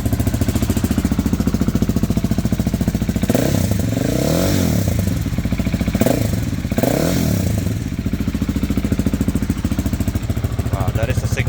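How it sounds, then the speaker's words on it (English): A 2023 KTM 690 SMC R single-cylinder motorcycle fitted with an Arrow muffler runs loud and steady, with several sharp rev blips rising and falling over a constant throaty idle, close to the microphone. "Really loud, even with the baffle on. This is just the muffler."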